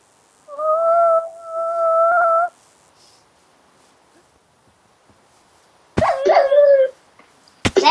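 A dog whimpers in two long, high, tonal whines, then after a quiet pause lets out a sharp, loud yelp followed by another brief cry, close and with no talking.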